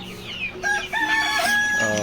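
Chickens on a poultry farm cluck and a rooster crows in a close, busy chorus, several overlapping calls filling the whole stretch with little pause.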